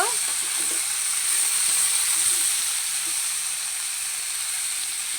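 Elephant apple pickle sizzles and hisses steadily in a pan while it is stirred, a continuous bright frying hiss with occasional soft scraping, close and constant throughout.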